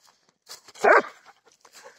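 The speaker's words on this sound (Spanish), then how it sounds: "Ya, deja de ladrar a los pendejos." A single dog bark stands out over quiet background rustling, with a few faint softer sounds before and after.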